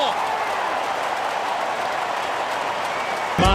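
A large crowd roars steadily at an Australian football match between the Sydney Swans and Fremantle Dockers, a dense continuous wash of noise with a commentator talking over it.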